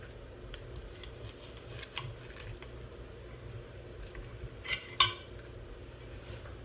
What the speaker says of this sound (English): Right, cut off some pieces here.